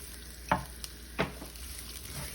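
Onion frying in a pot for Dominican saltfish sancoche, a quiet sizzle broken by a few sharp stirring clacks of a utensil against the pot.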